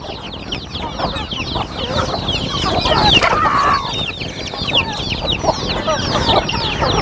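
Hens of a breed prone to frequent broodiness cluck steadily in a farm coop, a dense, close chorus of overlapping calls that runs without pause.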